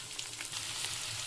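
Onions fry in two tablespoons of oil in a pan for a Telugu egg-garlic curry, giving a steady, close, soft hiss of sizzling with a faint low hum beneath and no talking.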